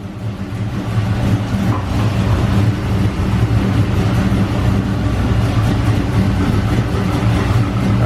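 A 5.7 LS1 V8 in a 1969 Nova, fitted with a Torker V2 cam, double valve springs and new pushrods, idles with a steady, loud, deep rumble throughout, close up and with no talk.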